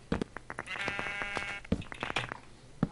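A sheep in Minecraft bleats in a short wavering cry, close and clear, amid soft clicks and game noises.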